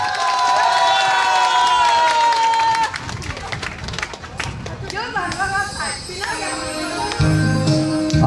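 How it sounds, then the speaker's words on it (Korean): At an outdoor Jagalchi Market customer-appreciation performance, a crowd claps and cheers over loud music with singing, while voices and shouts mix in and the scene shifts partway through. "자 박수."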